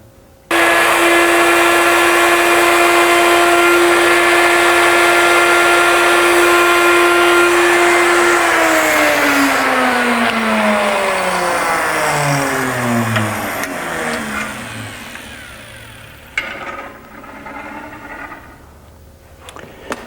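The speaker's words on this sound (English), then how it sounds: "Now you can see that milling that mortise is really quite clean." A power tool mills a mortise in wood for a country-style serving table, starting with a loud, steady high-pitched whine that holds for several seconds, then winds down in falling pitch, followed by a few light knocks.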